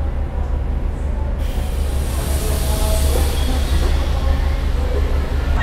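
A KRD Kedung Sepur local diesel railcar sits at Semarang Tawang station, giving a loud, steady low rumble with a hissing wash that swells midway, and no speech.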